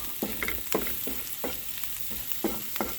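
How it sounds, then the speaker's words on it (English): Curry with pumpkin is stirred in a frying pan over a steady sizzle, with repeated spoon scrapes and knocks at an uneven rhythm, close and clear with no talking. "I'm going to mix in my curry and just allow it to cook."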